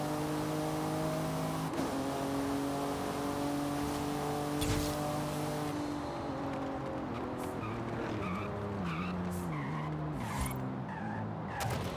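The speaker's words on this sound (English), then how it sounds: "start in second and rev it" Car engine revving hard in the Forza Horizon 5 racing game, starting in second gear, its steady drone climbing and dropping through repeated rev sweeps with tire squeal, loud and close with no talking.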